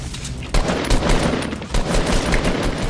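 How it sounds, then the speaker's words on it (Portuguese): Rapid bursts of automatic gunfire fill a shooter video game, loud and close, with a few sharp volleys standing out from continuous crackling shots and no speech. "Eu tô tomando tiro."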